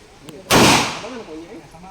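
A single sharp gunshot cracks out at an annual proficiency firing range, loud and close, its blast trailing into a short decaying echo with faint voices murmuring afterward.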